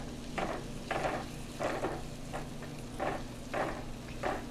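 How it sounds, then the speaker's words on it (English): Rice and cauliflower sizzle softly in a pan while being stirred, with a steady low hiss and regular scraping pulses about every half second, close but fairly quiet. "You just put the rice in, the cauliflower, stir it around till it's done."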